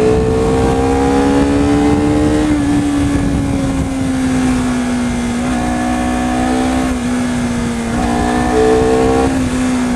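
Honda CBR250RR motorcycle engine on a test ride, a steady droning hum with tonal whine that rises and dips slightly with throttle changes, heard continuously with wind noise.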